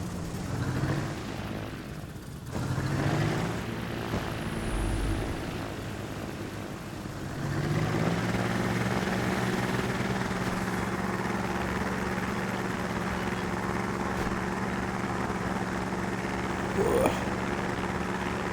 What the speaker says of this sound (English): let's take off in this one. There's a short takeoff distance.